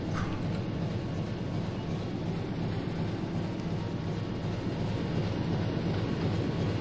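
Engine room ambience aboard a U-boat in the UBOAT game: a dense, steady low mechanical rumble and drone that fills the space evenly throughout, with no voices.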